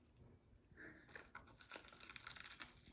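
A teenager bites into crunchy fried chicken, giving a quiet, close series of crisp crackling crunches that build over a few seconds, with no talking.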